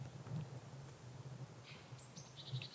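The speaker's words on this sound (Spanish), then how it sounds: "Solo se oyen unos pocos de pájaros por ahí." A few small birds chirp faintly in the distance over quiet, still outdoor air in the empty mountains of Spanish Lapland.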